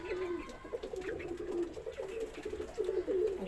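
Pigeons kept in a rooftop garden coo in low, repeated rolling calls, soft and fairly close, with no voices over them.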